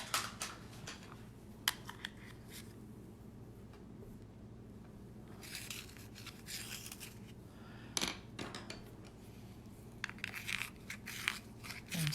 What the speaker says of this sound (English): Gotta sharpen my pencil.